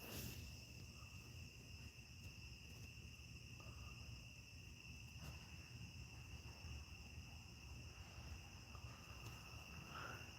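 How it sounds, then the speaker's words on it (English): Steady crickets chirping at night, a continuous high trilling drone that carries on evenly throughout with faint low background rumble. "I listen, just hear these crickets"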